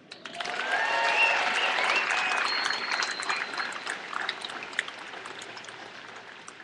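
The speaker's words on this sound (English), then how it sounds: "I think you should all applaud yourselves." An outdoor audience applauds on a lawn, a dense wash of clapping that swells quickly, holds steady, then thins toward the end with a few scattered claps.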